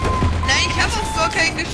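Gunfire in the online game Trouble in Terrorist Town crackles in fast, overlapping shots, loud and continuous, with game noise all around.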